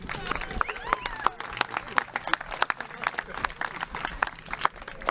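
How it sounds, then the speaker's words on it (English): Wedding guests clap during a best man speech, a moderate round of applause with distinct individual claps and some crowd murmur, fairly close. "Let's just give a quick round of applause for everybody involved for making this happen."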